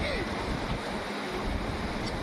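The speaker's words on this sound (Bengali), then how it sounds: "ওইখান থেকে জল আসছে, ওই জানলা দিয়ে।" Rainwater pouring in through a house window during a downpour, a steady broadband wash of falling water close by, continuous for the whole stretch with no talk over it.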